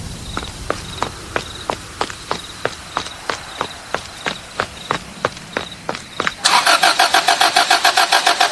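In a school radio drama, a steady run of evenly spaced footsteps is heard, followed by a car engine that starts and then idles loudly with a rapid, rough pulse.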